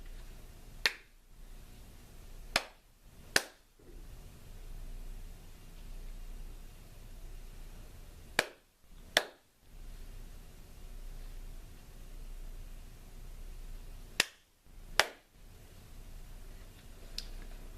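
Sharp, crisp claps in small rhythmic groups of two or three, separated by long quiet gaps over faint background hiss.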